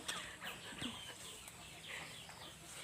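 Faint, soft clucking from chickens somewhere off at a distance on a Thai farm with a lime orchard, the low calls scattered and irregular against a quiet background.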